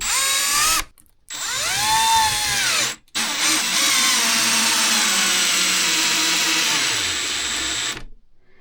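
Milwaukee SubCompact drill/impact driver whining at high speed with rising and falling pitch, cut by two brief pauses and then a long steady run that stops abruptly.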